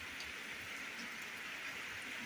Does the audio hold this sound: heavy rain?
yes